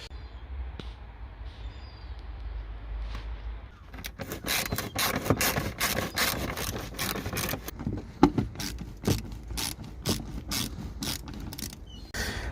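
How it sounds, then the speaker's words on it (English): Ratchet wrench working Torx screws out of a SEAT Ibiza front bumper, with quick bursts of ratcheting clicks starting a few seconds in and continuing steadily, close and fairly loud, with no talking. "we just removed all the torque screws from down there, and there's like two more under here."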